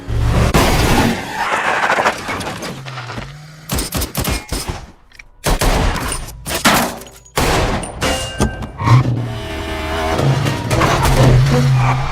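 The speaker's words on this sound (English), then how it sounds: "Brian gets hit by another car and a car chase begins." A movie car chase with loud engines revving and roaring, mixed with rapid bursts of gunfire, crashes and sharp impacts, with brief drops between the intense passages.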